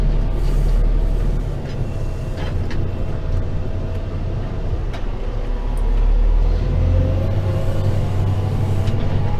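An automatic bale wrapping machine runs steadily with a dense, continuous mechanical rumble and a low drone, with occasional faint clicks over the hum and no voices.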